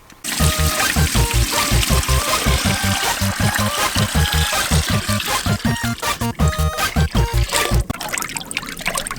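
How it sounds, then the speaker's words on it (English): A portable pump shower in a small camper van sprays and splashes water steadily, loud and close, over a rhythmic low pulsing of the pump, then cuts off near the end. "this part is a pump, so you put it in here, water, and just push the button"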